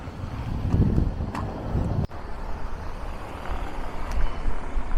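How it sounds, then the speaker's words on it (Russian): Strong wind buffets the microphone with a steady low roar and rumbling gusts, no voices, one brief dropout midway. "извините, если не очень хороший звук, потому что дует очень сильный ветер"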